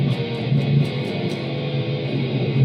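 Heavy distorted electric guitar through an amp preset emulating a Peavey-style high-gain sound, a thick, saturated wall of tone held continuously and loudly for a few seconds with no voices.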